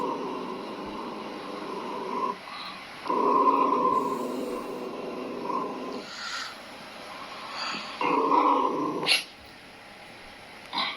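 A dog growls low and close in several sustained rumbling bursts with brief pauses between them, mostly without any talking over it.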